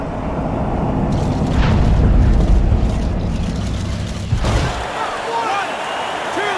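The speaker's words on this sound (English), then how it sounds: "He gets up after that punch put him down on the canvas." A heavy punch lands in the boxing video game Fight Night Champion, Ken Norton against Larry Holmes, with a loud booming impact amid steady crowd roar, followed by quieter arena ambience.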